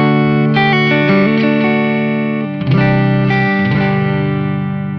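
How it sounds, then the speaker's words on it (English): Heavily distorted electric guitar chords through a Fuchs Mantis amp's high-gain channel ring out loud and saturated, with a short gap before another crunchy strummed phrase. "Channel 2 features an aggressive scoop, mid-range, high-gain sound with a nice edge on the high end."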